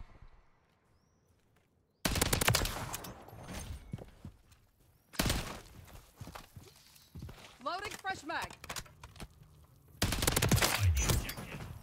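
Bursts of STG 44 automatic gunfire in a Call of Duty: Modern Warfare 3 multiplayer match, loud volleys at about two, five and ten seconds with game sounds and someone talking in between.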